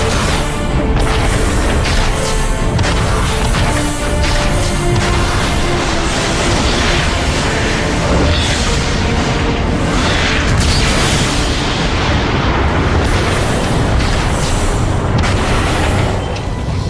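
Heavy cannon fire and explosions from the giant robot Metroplex blasting a warp cannon in a Transformers Cybertron battle, a dense, continuous barrage of loud booms and rumbling blasts with no voices.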